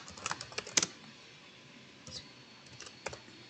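Computer mouse clicks while registering for college classes online, a few faint sharp clicks scattered across a quiet room, clustered early then two isolated taps later.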